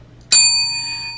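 A single bright notification-bell ding strikes sharply and then rings on with a clear sustained tone that slowly fades, loud and alone.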